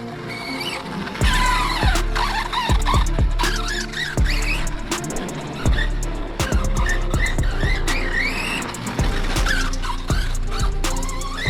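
Team Associated MT8 or Arrma Outcast RC trucks bashing around a track, electric motors whining and rising in pitch with repeated bursts of acceleration, tire scrabble and hard landing thumps, loud and close.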